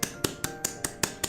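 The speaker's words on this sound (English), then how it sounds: "Everyone clap for Colt." Seven sharp, evenly spaced hand claps, one about every fifth of a second, close and alone with no talking.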